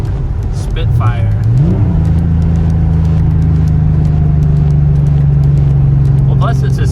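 A Porsche 911 Carrera Targa with a custom center exhaust runs close by, a loud, steady engine drone that rises once in pitch, then holds a constant tone as people talk over it.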